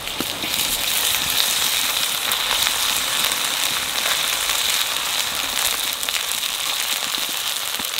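Ginger paste hits deeply browned onions in hot oil and sizzles steadily. A loud, continuous frying hiss with fine crackles runs unbroken throughout, with no voices over it.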